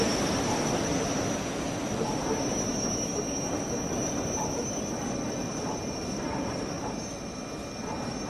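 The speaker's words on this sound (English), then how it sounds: "we all thought pacer squealing was bad. I think this one pretty much beats the pacers at it." A freight train in Train Sim World 6, on an early morning coal run, sends out a steady, piercing wheel squeal that rings over the low rumble and rattle of rolling rail wagons for the whole stretch.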